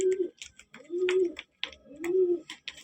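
Pigeons cooing in a repeated, rolling rhythm, three soft throaty coos close by with brief pauses between them.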